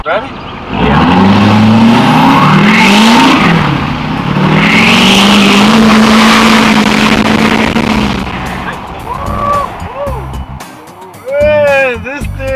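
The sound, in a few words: Duramax diesel Sierra Denali truck accelerating and popping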